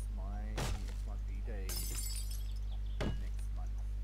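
Glass shatters in a video game, two sharp breaking crashes a few seconds apart with a bright tinkling spray between them, heard under a speaking voice and a steady low hum.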